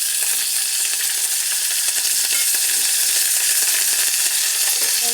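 Garlic paste and curry leaves frying lightly in oil in a pan, giving a steady, close, bright sizzle that crackles evenly throughout without pause.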